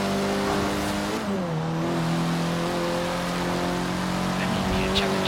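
A 2016 Honda Civic Type R with a VTEC turbo engine, front-wheel drive, revs in Forza Horizon 3; a steady engine drone dips and then climbs back through sustained harmonic tones for about five seconds, with a voice faintly present.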